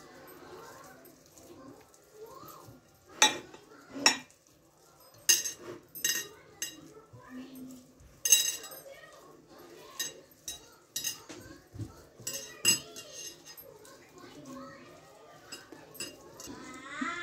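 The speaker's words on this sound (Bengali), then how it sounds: "এখন আমি আলুগুলোকে ম্যাশ করে নিব।" Boiled potatoes are mashed in a bowl, giving soft irregular thuds, scrapes and clinks of the utensil against the dish, fairly close in a quiet kitchen.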